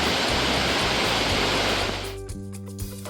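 Heavy monsoon rain pours near the Gomukh waterfall, a dense roaring wash of water that fills the scene, then thins after a couple of seconds to leave lighter patter and a few low knocks.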